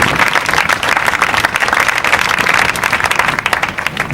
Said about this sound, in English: Let's give a round of applause for those companies